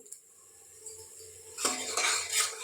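Spices sautéed with tomato and salt in a pan for a chickpea and potato curry: a quiet start, then from midway a loud, close sizzle with scraping stirs and spoon clinks against the pan, with no speech.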